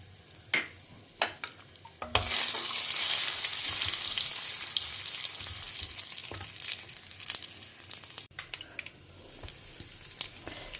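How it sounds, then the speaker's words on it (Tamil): Ground mustard and fenugreek crackle and fry in hot oil, starting with a few sharp pops and then a loud sustained sizzle with scattered spits, close and continuous, no talking. "இதை இப்போ எண்ணெய் சுட்டக்கையோடு பொரிச்சுன்றலாம்."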